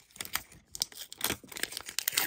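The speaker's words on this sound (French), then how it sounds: "Hop, on va déballer ça comme ceci." Packaging for a Google Pixel 6a is torn and crinkled open up close, with a quick series of sharp paper and cardboard rips and rustles at a moderate, intimate level.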